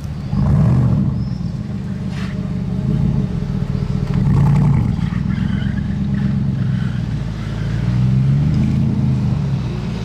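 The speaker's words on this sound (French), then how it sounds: "C'est celle de Massoud qui a l'échappement pas d'origine." A Bugatti Chiron Pur Sport with an aftermarket exhaust rumbles nearby on a Monaco street, its deep engine note swelling in a few revs over steady traffic noise.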